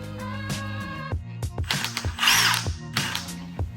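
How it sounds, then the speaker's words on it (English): A power drill spins a car polishing pad with a close, steady motor whine, stopping and restarting in short bursts. A brief rushing scrub sounds near the middle, and no one speaks. "This is the polishing pad for the car."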